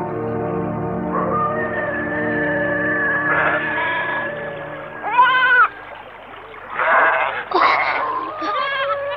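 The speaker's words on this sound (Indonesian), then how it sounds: "Kambing-kambing domba piaraan Sukmo berbaring di rerumputan tak jauh dari perigi" Goats and sheep bleat in a staged radio-drama scene, several wavering calls overlapping at close range, some longer and some clipped, with a steady background hum beneath them.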